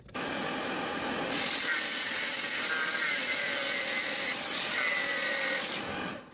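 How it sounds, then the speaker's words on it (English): An angle grinder cuts down steel bolts on a wind turbine frame. It gives a loud, continuous high whine and rasp that swells partway through and then spins down at the end, with no speech. "I need to grind some off the bolts"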